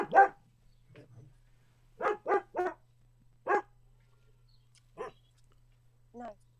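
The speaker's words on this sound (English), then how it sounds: "My dog Bella is very noisy." Bella the dog lets out a series of sharp barks, one loud opener, then a quick triple and scattered single barks at moderate distance, alone over a quiet room with a low steady hum.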